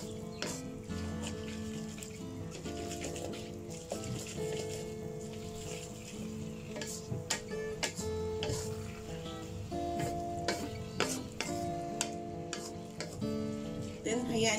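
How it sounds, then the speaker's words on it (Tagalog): Shirataki noodle stir fry simmering in broth in a pan, a steady sizzle and bubbling with occasional stirring clicks and scrapes of a utensil throughout, close and fairly loud. "Hayaan lang po muna natin itong kumulo na kumulo hanggang sa ma-dry yung water at ma-absorb ng ating noodles"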